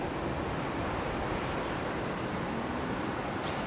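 A Qantas Boeing 737-800 arrives at Brisbane with a steady, broad jet engine roar that holds at an even level from start to finish, distant and fairly faint, with no talking.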